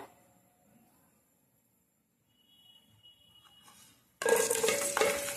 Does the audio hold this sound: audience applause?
no